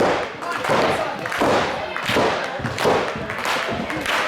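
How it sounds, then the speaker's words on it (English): Wrestling fans at a CSW Southland title event clap in a steady, rhythmic pattern, a dense crowd sound close and fairly loud throughout. "Marshe has the fans clapping it up."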